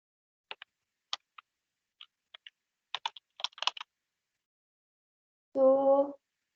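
Keys on a computer keyboard are tapped in sparse, irregular clicks that then cluster into a quicker burst, followed by a brief tonal voice sound at the end.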